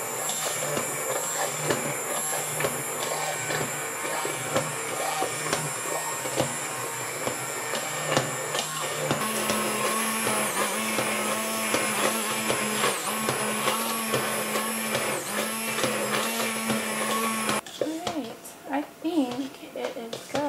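A blender whirring through cooked apples to make apple butter, a steady high motor whine that shifts pitch midway and cuts off near the end, with someone talking over it.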